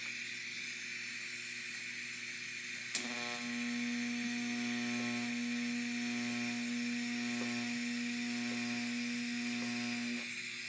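Welding an anti-roll bar onto a Nova drag-race chassis: a steady, continuous electric buzz and hiss with a sharp strike at the start, running close and even without any talk.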